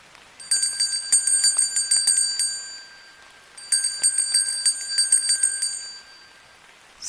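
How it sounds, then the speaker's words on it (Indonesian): A small bell rings in rapid, rhythmic bursts of clangs, heard in two separate runs with a pause between, clear and alone against a quiet background, used as an eerie effect in a graveyard horror story. "bunyi lonceng itu nggak acak, ritmis, kayak orang panik"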